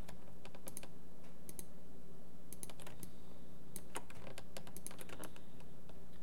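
Rapid computer keyboard key presses during 3D modeling work in Maya, with irregular bursts of crisp, close clicks and brief pauses, no talking.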